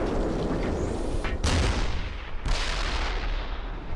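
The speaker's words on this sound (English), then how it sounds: "that tank's just shooting outside the map" A tank fires in the video game Black Mesa, two loud booming shots about a second apart, each with a sharp crack and a long rumbling decay, set against constant roaring background noise.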